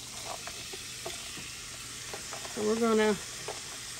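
Red onion, green pepper and garlic saute in melted bacon grease in a hot pan, a soft steady sizzle with light stirring clicks under a man's speech, plus a brief tonal squeak partway through.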